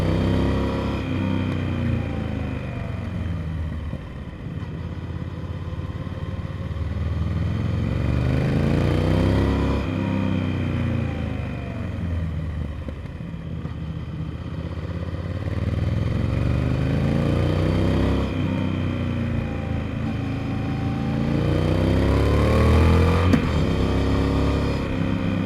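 A Triumph Speed Twin motorcycle climbs a mountain road, its engine droning steadily and rising and falling in pitch through several gear changes, with continuous wind rush throughout; no talking.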